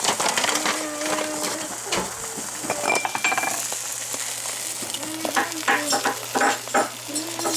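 Breakfast eggs with cheese and bacon sizzle steadily in a pan while a utensil stirs and scrapes against it, with soft voices in the background.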